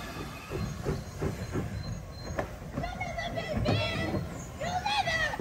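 A train on Middleton Railway, a short heritage line in Leeds, rumbles and clatters along the track with occasional wheel squeals, while people talk nearby.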